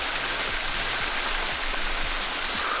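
Rock River Falls roars as a steady, loud wash of falling water, dense and unbroken, with faint low thumps beneath the constant spray and no voices.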